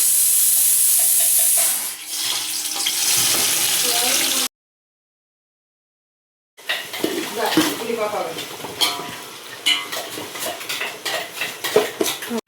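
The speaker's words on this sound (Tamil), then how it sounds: "எண்ணெய் நல்லா காஞ்சிருச்சு நம்ம கட் பண்ணி வச்சுருக்க ஆனியன் நம்ம அதில் போட்டுக்கலாம்" Six hundred grams of lengthwise-sliced onions hit hot oil for a biryani, sizzling under clattering utensil and pan sounds. A stretch of silence breaks it midway before the stirring and scraping resume.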